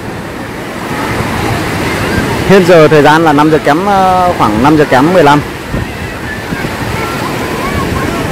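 Sea waves wash along Sầm Sơn beach in Thanh Hóa, a steady broad surf roar mixed with wind buffeting, with someone talking loudly over it in the middle.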